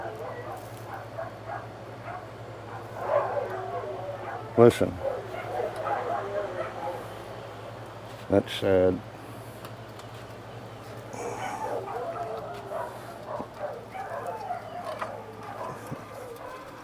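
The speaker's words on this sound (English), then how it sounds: "There go my dogs." Dogs bark in short bursts from a distance on rural Mississippi back roads near an electric Wallke H9 bike, with someone speaking briefly over a steady low hum.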